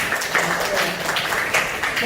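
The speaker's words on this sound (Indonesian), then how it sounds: "Oke, tepuk tangan buat Bapak." Audience applause at a school presentation event, a dense wash of clapping rising and falling slightly over two seconds, with some voices mixed underneath.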